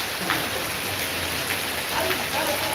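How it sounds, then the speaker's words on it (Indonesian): Steady rain pours down outdoors in Mantang, Lombok, a dense, even hiss of drops on surfaces throughout, fairly loud, with voices faintly mixed in. "Ini masih hujan nih guys."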